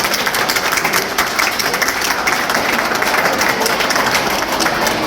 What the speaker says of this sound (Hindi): एक बार जोरदार तालियों से उनका स्वागत किया जाए।